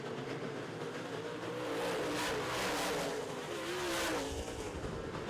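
Modified race cars roar around a dirt oval during a feature race, a loud continuous engine drone swelling and fading as the pack passes through the turns, with no talk.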